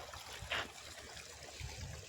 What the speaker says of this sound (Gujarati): આ ક્યારામાં પાણી આવી ગયું.